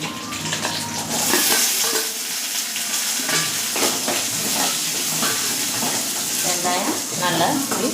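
Onions frying and being stirred in a pot for sambar, a loud continuous sizzle close by, broken by scraping and clattering strokes of the stirring spoon, with no one speaking.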